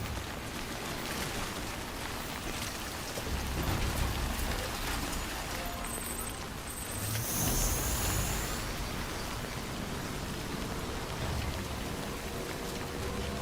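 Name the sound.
timefall rain from the video game Death Stranding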